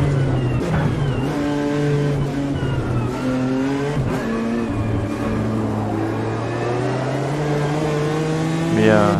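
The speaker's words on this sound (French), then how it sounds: "Les sons, on parle bien des sons, des moteurs" Race car engines in the racing video game Automobilista 2 roar and rev continuously, pitch climbing and dropping with gear shifts, loud and steady throughout.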